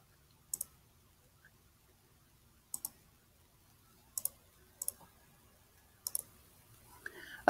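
Sharp computer mouse clicks come in small pairs and singles, spaced irregularly over near silence, close and crisp, with a faint rustle at the end.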